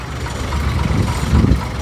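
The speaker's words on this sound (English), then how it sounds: "Just listen to the engine on this Scammell." A Scammell lorry engine rumbles nearby at a steam and vintage vehicle rally, a deep, steady throb that swells louder toward the end.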